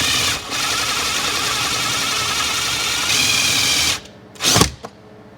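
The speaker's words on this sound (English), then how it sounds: "I think I'm going to drill a hole somewhere in this area" A power drill whines steadily for several seconds at close range while drilling a hole into a BMW car's body, then stops, followed by a couple of short bursts of drilling.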